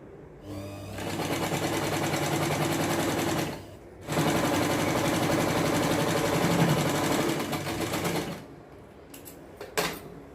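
A sewing machine stitches baby boy pyjama fabric in two long, steady, loud runs of fast mechanical whirring, with a short pause between them and a few clicks at the end.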